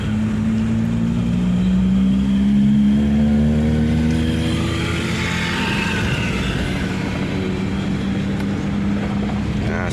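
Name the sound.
Toyota Kijang Krista engine revving with semi-automatic clutch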